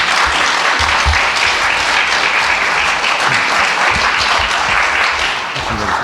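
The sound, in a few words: applause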